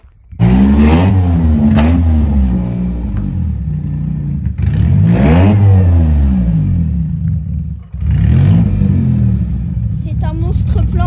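Peugeot 605 SV24 V6 with its exhaust line removed, revving hard three times in long loud blasts, each rising and falling in pitch, with a raw open rasp and brief pauses between.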